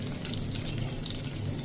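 Garlic, whole green chilies and cumin sauté in a pan for a Pakistani saag, giving a short steady bubbling sizzle at moderate level with no voices.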